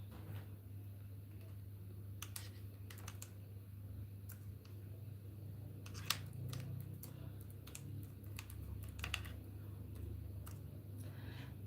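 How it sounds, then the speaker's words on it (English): Someone types on a computer keyboard, making faint, irregular bursts of light key clicks over a low background hum. "let me type that"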